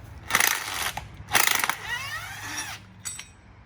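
A ratchet loosens a nut on the suspension of a Dodge Challenger Hellcat during a swap to H&R 50888 lowering springs. Two close bursts of rapid clicking are followed by a squeaky scraping and a faint final tick.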